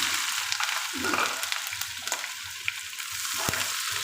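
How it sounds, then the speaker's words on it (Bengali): Chopped onion and cumin seeds fry in hot oil. A loud, steady sizzle is heard close by, and the scrape of stirring breaks through it every so often. "কিছুটা জিরে দিয়ে দিচ্ছি এখন কিছুটা পেঁয়াজ কুচি দিই"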